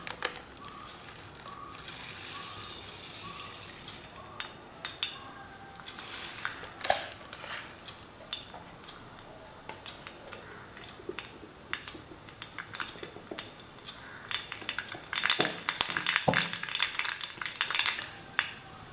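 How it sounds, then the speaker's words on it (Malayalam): Mustard seeds popping in about two spoons of hot coconut oil in a pan, faint scattered crackles and sharp little pops that become denser and louder toward the end. "കടുക് നന്നായി പൊട്ടി കഴിയുമ്പോഴേക്ക് സവാള ഇടാം."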